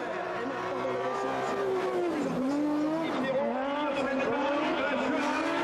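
Rally cars racing on an ice track at Isola 2000 in the Alpes Maritimes, engines revving and pitching up and down through braking into a big right-hand corner, steady and loud with a commentator talking over them.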